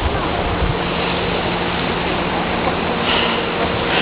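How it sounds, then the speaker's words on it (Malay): Sea surf and a breeze on Pangkor Island, a steady broadband wash of waves and wind rushing continuously at close range with no voices. "air laut, sepoi-sepoi angin yang luar biasa"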